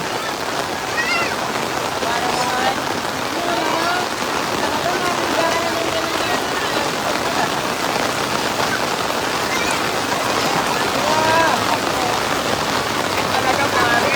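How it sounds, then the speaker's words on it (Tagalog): Heavy monsoon rain pours down steadily and densely over a flooded street in Quezon City, a constant loud hiss with faint voices and occasional higher calls mixed in. "Lakas ng ulan, tuloy-tuloy."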